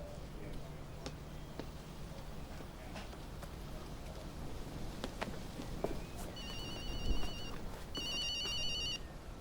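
A telephone rings in two short electronic bursts near the end of a scene in a sci-fi drama film, over background rustling and soft ambient sounds.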